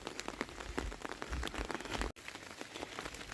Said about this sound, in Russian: А капли какие капают, пузырится. Ну это надолго дождь.